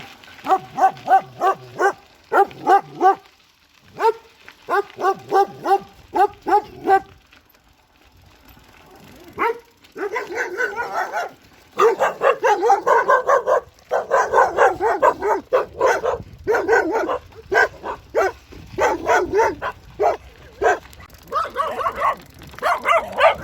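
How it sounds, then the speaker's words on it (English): A group of dogs chase a cyclist on a street, barking loudly and repeatedly in quick volleys, with short pauses and overlapping yips throughout. "there's a group of dogs following me"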